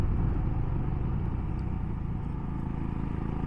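A Royal Enfield Himalayan motorcycle riding mountain roads in the Sierra de los Filabres, with a steady low engine drone and rumble mixed with wind, close and continuous.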